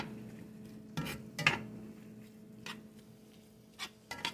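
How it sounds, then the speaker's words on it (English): Ground beef browning in a pan on the stove for tacos, stirred with scattered metal scrapes and clinks against quiet kitchen background, sparse and moderately soft. "We just gonna continue on stirring it up till it brown up."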